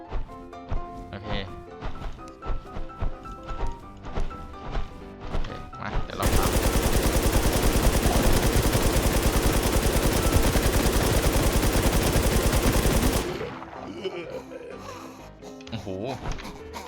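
A gun in the Warz JapanZ video game fires as a sustained, dense machine-gun burst lasting about seven seconds, loud and close, with someone speaking before and after it.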